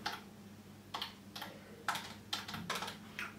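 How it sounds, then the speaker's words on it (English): Keys tapped on a computer keyboard in bursts of quiet, separate clicks over a faint steady hum, with no voice. "So here I am typing here."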